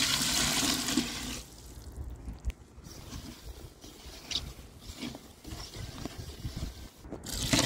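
Water poured into an 8-cup Pyrex measuring cup for a mushroom substrate mix: a rushing pour at the start, then intermittent splashes, trickles and faint clinks, quiet and close.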